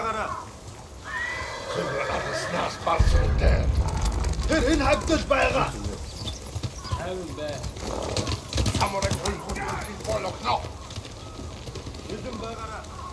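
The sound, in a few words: horses galloping in video game Ghost of Tsushima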